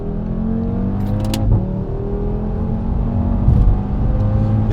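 Audi RS3 with its five-cylinder engine, heard as a loud, sustained engine drone that rises and falls in pitch as the revs change, with a brief higher whine partway through and no talking.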